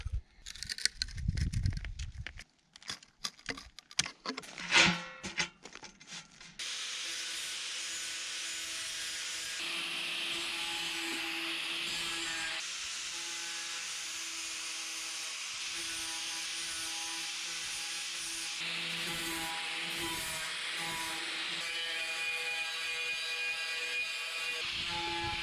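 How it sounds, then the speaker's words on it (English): Angle grinder used as a sander on wood, a steady whirring abrasive rub that runs continuously after a few scattered knocks and handling noises at the start. "I've never used the angle grinder as a sander before"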